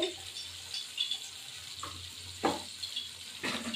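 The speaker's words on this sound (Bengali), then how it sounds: "তেল দিলাম কড়াইতে" Oil heats in a kadai while mutton kosha is being cooked, giving a low, steady sizzle with a few sharp clinks and scrapes of utensils close by.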